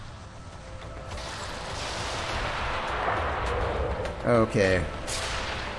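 Ship weapons firing in the naval combat video game Dreadnought, booming artillery-like blasts and rumbling explosions under continuous background noise, with a brief spoken word near the end.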